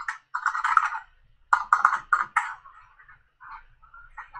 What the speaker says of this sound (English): I am not typing good today.